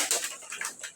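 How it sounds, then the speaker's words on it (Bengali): Red pigeons, a male and a female, giving a few short, close coos and soft calls over about a second. "লাল কবুতর নিয়ে আসলাম"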